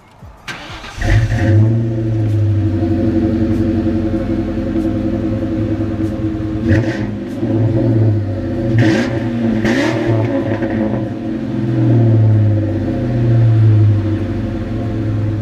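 A Ford Mustang fires up with a sharp crank and catch, then settles into a loud, steady, deep idle close by, with several throttle blips and revs rising over the rumble.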